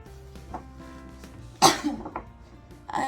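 A single person coughs indoors, one sharp loud burst followed by a smaller cough and a later rough exhalation, close to the microphone over a low background hum.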